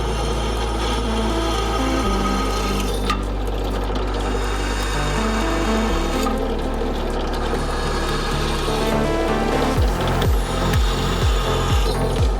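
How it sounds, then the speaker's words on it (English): Sanding metal go-kart spindle pieces smooth, a continuous close abrasive rasp over a steady motor hum that shifts pitch a few times, ending in a series of quick repeated strokes. "I went ahead and sanded them all nice and smooth"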